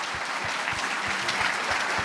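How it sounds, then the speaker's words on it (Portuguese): A crowd applauds a team at an event at the Minas Gerais Legislative Assembly, dense continuous clapping close by with no voices. "finalizar pedindo uma salva de palmas para esse time maravilhoso de liberais"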